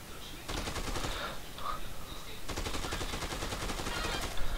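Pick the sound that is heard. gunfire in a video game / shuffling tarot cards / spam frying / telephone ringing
gunfire in a video game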